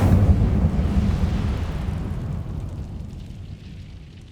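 Incendio fire spell blast in the video game Hogwarts Legacy: a loud, dense roaring burst with heavy low rumble that slowly tails off over a few seconds.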